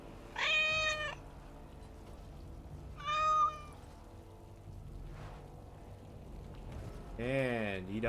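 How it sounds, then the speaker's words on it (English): A cat in the game Dragon Age: Origins Awakening meows three times, with long gaps between calls. The meows sound close and clear over quiet ambient game noise, and the last one is a drawn-out, wavering mew. "Oh, look at the cute little kitty."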